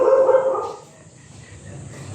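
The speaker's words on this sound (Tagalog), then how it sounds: "May aso pa." A dog barks a few times close by at the start, then a quieter stretch with faint background noise follows; no one speaks.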